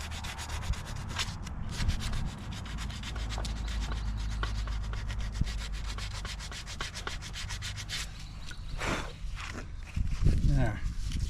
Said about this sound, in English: I need to sand a bit more